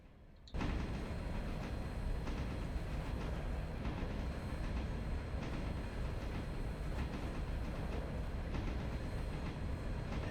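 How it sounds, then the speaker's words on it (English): Passenger train in the video game Railroader rumbles steadily with a constant rolling roar and faint rhythmic clatter, starting suddenly and continuing loud and unbroken with no talk. "That passenger train should get moving here any minute now."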